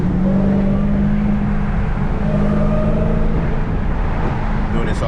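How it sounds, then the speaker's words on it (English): A 2020 Dodge Charger Daytona Hellcat raced up mountain roads, its engine droning loud and steady from inside the cabin with pitch shifts as it downshifts, under continuous road and wind roar. "Downshift."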